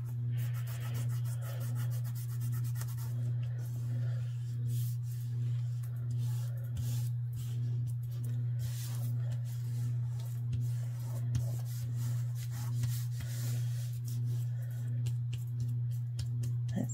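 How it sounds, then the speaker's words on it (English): Soft, steady rubbing as a glued napkin is pressed down onto paper, a faint scratchy texture over a constant low background hum. "I want it to rub down really good, but I'm being really careful because I don't want to tear my napkin."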